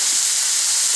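Meat cooking in a pan, heard as a brief, steady, close sizzle with an even hiss and no other sounds.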